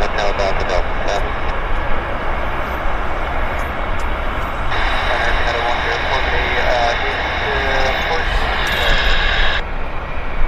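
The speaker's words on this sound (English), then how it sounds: "There's the Saab 340." A Saab 340 turboprop taxies at Vancouver Airport, a steady broadband engine drone with a rising whine partway through, heard over airport radio chatter and talk.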